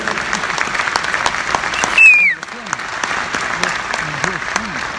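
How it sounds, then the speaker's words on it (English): Sustained audience applause fills a live event, dense and steady, with a brief whistle and a few voices calling out partway through. "How about a round of applause for Mariela and Terence?"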